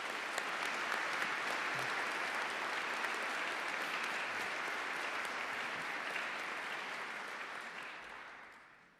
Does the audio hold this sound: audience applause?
yes